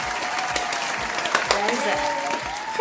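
An audience applauds after a sing-off of popular TikTok songs, with brisk clapping running throughout beneath voices and some tonal sound layered on top.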